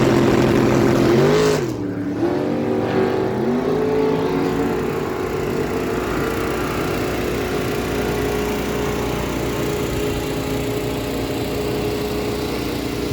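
Two drag cars, a 1972 Chevy Nova with a 434 small block and a 1986 Chevy Camaro with a 427 cubic inch engine, launch together at a dragstrip, a loud rising engine roar that fades steadily into the distance.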